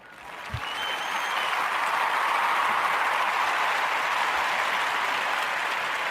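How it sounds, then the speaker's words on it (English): An audience applauds to welcome a guest, the clapping building quickly from a quiet start into a sustained, even roar that stays loud to the end. "let me give her a clap again because I'm glad that she's here"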